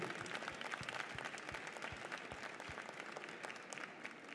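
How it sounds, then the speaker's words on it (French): Soft, distant applause rises from the audience at a Jersey cattle breed show for the breeders, with a steady wash of clapping and faint low thumps at regular intervals beneath it. "on peut applaudir très fort les éleveurs"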